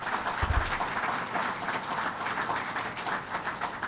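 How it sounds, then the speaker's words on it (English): Steady applause from an audience in a union hall at a governor's event, dense clapping sustained evenly throughout with a few low thumps near the start. "Let's give them a round of applause."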